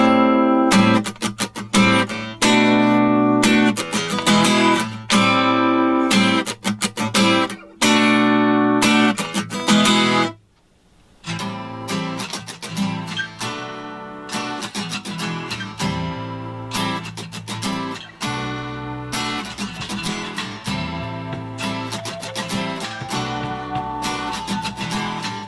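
Acoustic guitar playing a song at full song tempo, steady driving strums with a brief break midway, close and loud, no voice.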